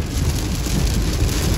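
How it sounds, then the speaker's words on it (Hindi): Heavy rain pours down steadily on a vehicle, a dense, loud, constant wash of noise with no pauses and no voices. "तो गाइस मजे करो आप बारिश के"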